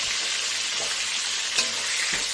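Chicken pieces fry in a pan, a dense even sizzle holding steady, with a couple of soft stirring touches.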